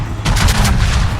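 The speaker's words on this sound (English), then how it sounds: "Chips him with his 500mm guns" Heavy 500mm battleship main guns firing in World of Warships, a loud rapid series of close booming blasts rolling into a deep sustained rumble, with no voices.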